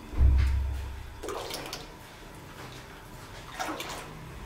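Water is poured into a pot for suji halwa sugar syrup, a brief loud splash at the start followed by quieter trickling and faint clinks.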